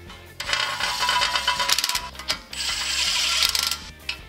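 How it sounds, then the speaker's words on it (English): Ratchet wrench tightening ball joint bolts on an N60 Hilux, loud close rapid pawl clicking in two long bursts, separated by a brief pause and a sharper knock. "And then torque them down to 60 Newton meters."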